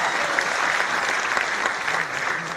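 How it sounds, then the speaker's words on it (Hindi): Students clap together in a Gujarat University hall, a steady, dense patter of applause that holds at even loudness throughout. "ताली बजाओ भाई।"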